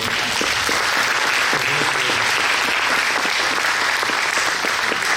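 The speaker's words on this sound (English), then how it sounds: "Would you collectively with me give him a round of applause" Sustained, loud crowd applause fills the room evenly from start to finish, a dense wash of many hands clapping with no pauses.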